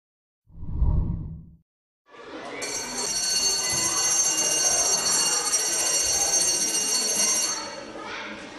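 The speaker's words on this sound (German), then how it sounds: "Heute Morgen hat es auf dem Auer Heidelberg ein letztes Mal zum Unterricht geklingelt." A primary school class bell in Aue, Saxony rings loudly and steadily for about six seconds with a bright, sustained electric tone, following a brief voice.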